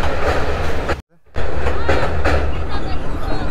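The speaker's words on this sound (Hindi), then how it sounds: "ये लोकल ट्रेन है, एनजीपी तक जाएगा और वहाँ से वापस और शाम को वापस आ जाएगा।" A crowded local passenger train rolling past near Sevok Road in the Dooars, a loud, steady rumble with rattling wheels that briefly cuts out then returns, with voices talking over it.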